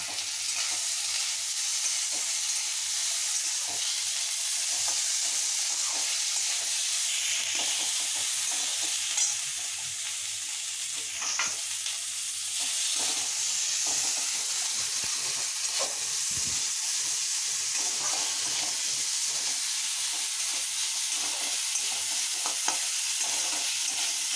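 Ginger paste, chopped tomato and green chillies frying in a pan for a paneer masala, with a loud, steady sizzle and occasional stirring clicks throughout, no voices.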